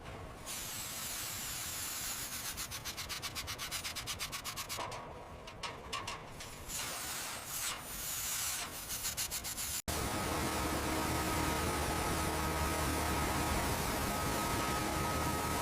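Sandpaper rubs over a repair patch on a WWII submarine hull in steady, rasping strokes at close range. A quick rhythmic scrubbing passage is followed by a denser, continuous grinding hiss.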